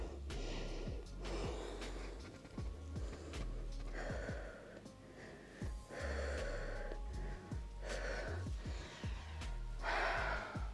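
Deep, slow breaths during a night yoga full-body stretch: a series of audible inhales and exhales, some with gasping or sniffing edges, repeating every second or two, close and fairly quiet.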